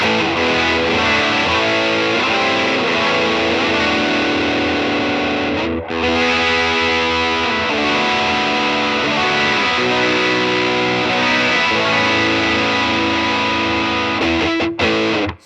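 Electric guitar played through a Taiwam RAT distortion pedal with gain just over half, a thick, mid-forward overdriven tone of sustained chords and riffs ringing steadily and loudly, with a brief pause near the middle and no talking.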